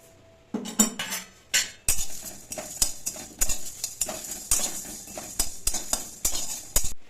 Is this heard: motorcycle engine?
no